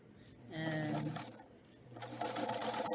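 A sewing machine stitches a garment's shoulder seam in two short runs separated by a brief pause, close but fairly quiet, with light handling sounds between the bursts.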